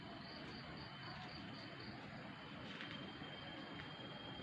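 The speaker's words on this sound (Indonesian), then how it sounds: "Hanya terdengar suara-suara jangkrik" Crickets chirping steadily at dusk near an old building, a faint continuous high trill with soft pulsing beats under a quiet ambient background, no talking.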